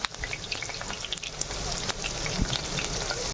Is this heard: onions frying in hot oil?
yes